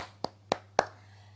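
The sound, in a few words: applause clapping for the children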